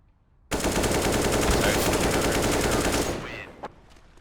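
Rapid automatic AK rifle fire in a competitive first-person shooter match, a dense sustained burst lasting about two and a half seconds, then stopping with a couple of faint trailing clicks.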